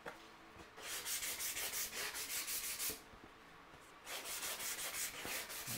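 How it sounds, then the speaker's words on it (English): Light hand sanding along the saw-cut edges of plywood, steady rasping strokes in a back-and-forth rhythm, close and fairly loud, with a short pause between bursts. "So, my next bit is just to sand off the edges. Just a light sand, just to take the furry bit from the saw cut."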